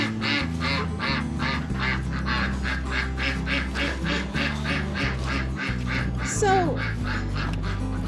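Ducks in a farm duck yard quack steadily in a rapid, repeated chorus, close and loud, while a person talks over them.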